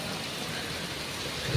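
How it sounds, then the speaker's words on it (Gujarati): Steady rain and wind roar through a village during a storm, a dense, continuous hiss that holds even and close for the whole stretch, with no voices. "બારિશ નો અત્યારે વાટ ચાલ્યો છે ને ગામમાં"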